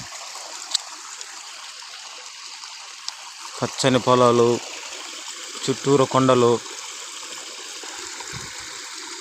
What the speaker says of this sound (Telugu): Village shower friends.